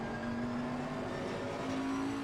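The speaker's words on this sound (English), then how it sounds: "Look at this car, it's so beautiful to drive." A race car in Assetto Corsa Competizione holds a steady engine drone at near-constant pitch for a couple of seconds, fairly quiet with no voices.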